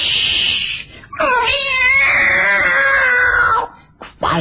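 A white cat lets out a long, loud, drawn-out meow close by, its wavering wail sustained for a few seconds before breaking off, with a brief further cry at the end.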